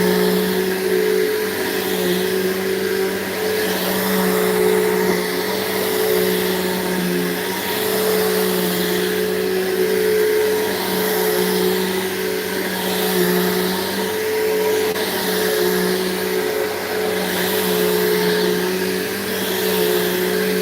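A Bissell vacuum cleaner runs continuously indoors, a steady droning whine with a faint pulsing rhythm, close and alone without speech.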